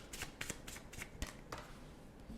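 Tarot cards are shuffled up close in a run of quick, crisp riffling flicks and soft slaps, faint and alone.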